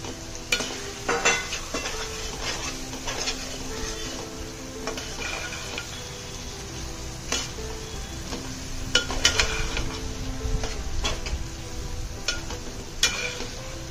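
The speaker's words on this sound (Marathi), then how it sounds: "आता जी भाजलेली मटकी आहे ते आपण ह्यासोबत पुन्हा एकदा भाजून घेऊया।" Roasted moth beans are stirred through oily masala in a pan, with a steady sizzle broken by repeated close scrapes and clinks of the spoon.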